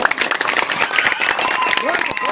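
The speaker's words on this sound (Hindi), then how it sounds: "इनका जोरदार तालियों से स्वागत करें आप लोग" A crowd at a Jan Suraaj Party political rally claps loudly and continuously for the district secretary, a dense wash of applause with a voice speaking over it.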